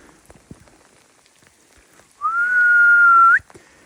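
A person whistles once in the woods: a single clear, sustained note about a second long that lifts sharply at the end, loud against a quiet backdrop of faint scattered ticks and patter.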